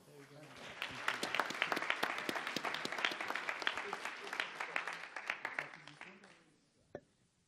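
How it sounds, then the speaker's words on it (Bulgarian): A conference audience at a lightning talks session applauds a speaker, a full burst of clapping that swells and then fades over about six seconds, followed by one last lone clap. "Аплодисменти за Светослав Ценов."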